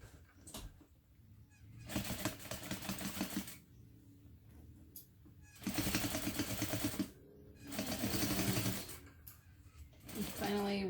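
A heavy sewing machine with metal gears stitching around a fabric bag, running in several long whirring bursts of rapid rhythmic needle clatter separated by pauses, with speech between some runs.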